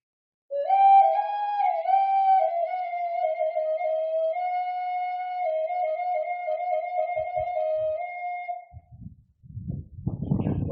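A small bansuri bamboo flute plays a sustained, gently bending melody, clear and close with nothing else beneath it, then stops as a few faint knocks and rustling handling noises follow.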